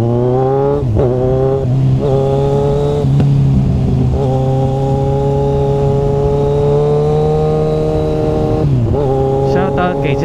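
A Kawasaki Z1000 motorcycle on a road test revs loudly and close up, its engine note climbing and dropping through several gear changes in a continuous run.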